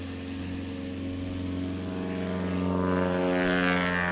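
A STOL propeller plane takes off at Patriot Airpark during an Arklahoma STOL competition, its steady engine drone and prop harmonics building louder toward the end, with no talk over it.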